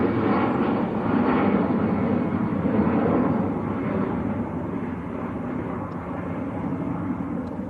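An EasyJet jet airliner bound for Paris roars past at Manchester Airport, a loud broad engine rush that swells early and slowly fades.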